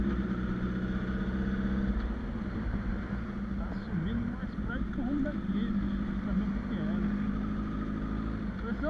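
A truck engine passes on a city street, a fairly faint, steady low rumble with a droning hum that holds for several seconds, with soft voices under it.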